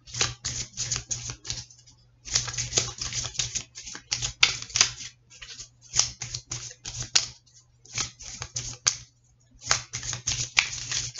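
Tarot cards are shuffled and dealt in quick bursts of crisp, papery flicks and snaps, close and fairly loud, with short pauses between runs and a faint steady hum underneath.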